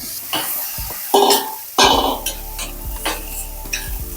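Onions and horse gram frying in a pan while being stirred, with loud scraping and clanking of a spoon against metal over a continuous sizzle, close and busy, no talking.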